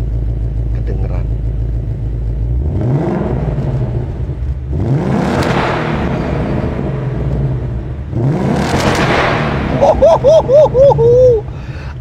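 Ford Mustang GT 2024 V8 engine revving from idle, three loud rising rev bursts that swell and fall back to a deep burble, with a brief whine near the end.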